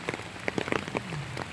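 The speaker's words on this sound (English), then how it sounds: "And look, I'm out in the rain." Rain falling outdoors in the early morning, a soft steady patter with scattered individual drops striking a surface, faint and close.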